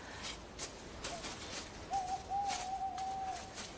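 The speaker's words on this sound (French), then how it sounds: "C'était quoi ça? Ça devait être un oiseau, je pense." An owl hoots in a cold, eerie outdoor spot, a single drawn-out tonal call rising then holding, moderately close over a faint rustling background.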